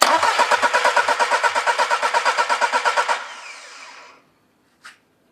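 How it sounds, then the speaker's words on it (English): An engine on a test rig cranks with a steady, rapid pulsing rhythm for about three seconds, then winds down into a fading whir before stopping, followed by a couple of brief clicks. "And I can crank the engine."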